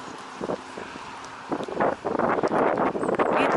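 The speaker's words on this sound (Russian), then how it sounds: "Ветрище!" Strong wind gusting outdoors in the Amalienau district of Kaliningrad, a steady roar that swells into louder buffeting blasts in the second half, with no voices.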